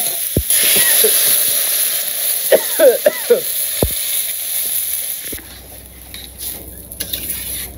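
Curry sizzling and frying in a pan in a village kitchen, with a sharp hissing burst as water is poured in, followed by steady crackling and a few stirring scrapes, close and fairly loud.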